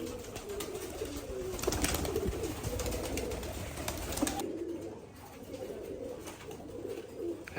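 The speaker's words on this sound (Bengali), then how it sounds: "এখানে সাদা সাদা কবুতর" Several white pigeons coo in a steady, overlapping murmur close by, with low rolling calls continuing throughout and a slight drop in background noise partway through.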